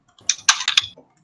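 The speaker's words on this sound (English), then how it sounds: "I can hear him tapping the computer, it's so loud." A quick burst of four or five sharp clicks from a computer keyboard being typed on, close and crisp, over an otherwise quiet background.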